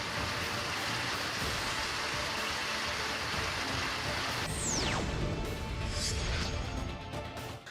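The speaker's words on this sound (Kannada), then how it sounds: "ಬಹುತೇಕ ಕಡೆ ಆಲಿಕಲ್ಲು ಸಹಿತ ಮಳೆ ಸುರಿದಿದೆ" Rain falling with hail, a dense, steady roar of drops on surfaces close by, with a brief whistling sweep partway through and no voices.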